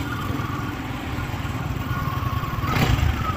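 The engine of a Rusi Adventure X150 motorcycle with a draining battery runs close by in a steady, buzzing putter that rises slightly toward the end.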